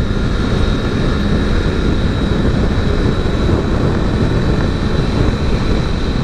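A Triumph Tiger 900 Rally Pro motorcycle engine drones continuously while riding, a steady low rumble mixed with wind rush at constant speed, with no voices present.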